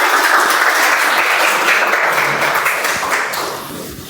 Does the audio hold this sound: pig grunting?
no